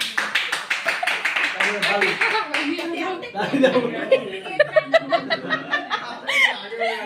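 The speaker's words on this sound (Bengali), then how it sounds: "এই তালি দাও" Several people clapping together at a home birthday celebration, quick irregular claps at first and then a steadier rhythmic run, close by, with chuckles and laughter mixed in.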